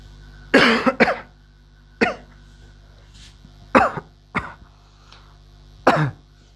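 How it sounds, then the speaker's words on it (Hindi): A man coughs six times, in short, sharp, close bursts with quiet pauses between them, during a chemistry lesson indoors. "बहुत खांसी आ रही है यार आज"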